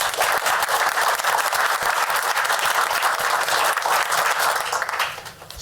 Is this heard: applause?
yes